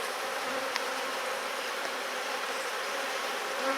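A dense, even drone of many honey bees hums steadily around a hive frame during a beekeeping inspection, close and continuous with no talking.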